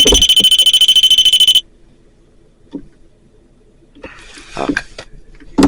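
A REM pod paranormal detector sounds inside a car with a loud, rapid electronic alarm tone for about a second and a half, then cuts off; a few faint knocks and shuffling noises follow, and a voice speaks briefly near the end.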